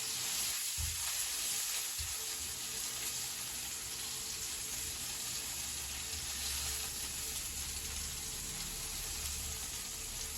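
Onion and tomato sizzle in a frying pan with a soft, steady crackle, faint and close, with a few light clatters near the start.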